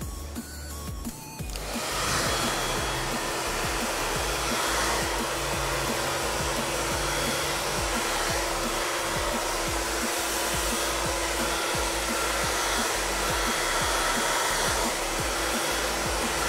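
A hair dryer blows on hair while a bob-style fade haircut is finished. It starts with a brief click and then roars in a steady, loud, continuous rush without pause.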